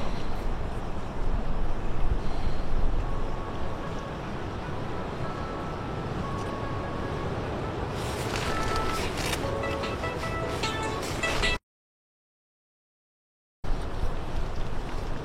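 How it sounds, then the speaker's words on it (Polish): Strong, gusty wind roars steadily outside a tent, heard from inside as a dense continuous rush with some flapping rattle, cut by a brief silent gap. "No nie chce się wychodzić na te wiatrzycho."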